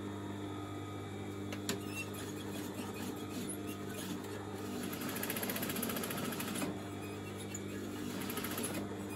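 A sewing machine stitches fabric for simple hair ties, a steady fast mechanical whir and rattle under a constant low hum, with the motor running continuously and slightly louder toward the middle.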